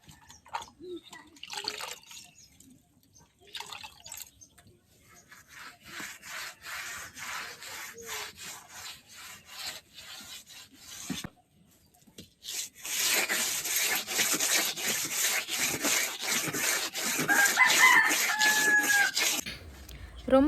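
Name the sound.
rubbing wet mud plaster onto stove wall by hand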